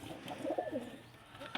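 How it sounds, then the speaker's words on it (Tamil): Pigeons, including plain and racing varieties, cooing in a pigeon loft, a soft throaty rolling coo close by with faint rustling around it. "சாதா புறா, எல்லா புறா இருக்குங்க கேஸ்."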